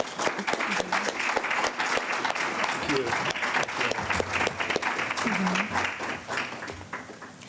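A steady round of applause from the audience at an evening satsang gathering, moderately distant and sustained throughout, with faint voices underneath.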